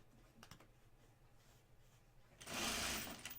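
A sewing machine topstitches along the top edge of a fabric bag, starting with faint light taps, then a loud steady whir of continuous stitching in the final second.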